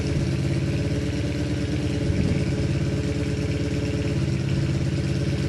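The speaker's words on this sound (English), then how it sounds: "That I've got the bike running." A Suzuki Bandit motorcycle engine idling after a carburetor float adjustment, a steady close mechanical chug with a slightly uneven, lumpy rhythm that holds throughout.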